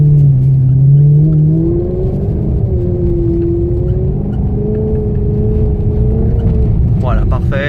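A Maserati GranTurismo S engine on a race circuit hums steadily at moderate, eased-off throttle through a corner, its tone rising and falling gently while a driving instructor talks over it.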